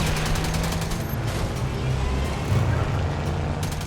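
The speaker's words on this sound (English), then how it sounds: "Oh, they're shooting rockets at me." Rockets and gunfire in the sci-fi video game Starhawk, a continuous loud barrage of explosive roars and rumbling blasts that stays dense and steady throughout.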